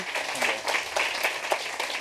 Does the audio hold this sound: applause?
yes